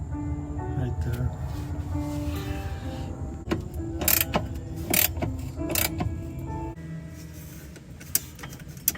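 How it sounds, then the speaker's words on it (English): A long bolt is loosened during shock absorber replacement on a VW Karmann Ghia, with repeated ratcheting and metallic clicks, some sharp clanks, and a person talking over the work. "you're just loosening this bolt, this long bolt that's coming out over here"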